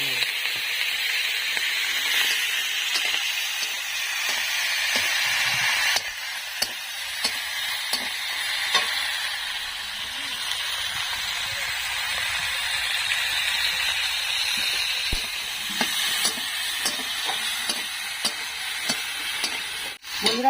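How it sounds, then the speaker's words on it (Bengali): Shrimp frying in hot oil in a pan, a steady loud sizzle with scattered pops and stirring clicks throughout. "তেল আমার গরম হয়ে গেছে, তো আমি চিংড়িটা ভেজে নেব।"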